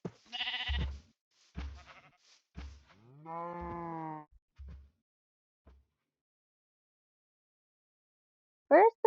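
Farm sheep give several loud, close bleats in a row, one drawn out and wavering, spaced by short pauses, followed by a quiet stretch and a brief final call.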